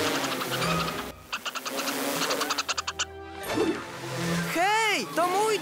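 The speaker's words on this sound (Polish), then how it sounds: "Hej, to mój dron!" A toy drone buzzes with rapid pulsing whirs in a Paw Patrol cartoon, mixed with music, sound effects and character voices.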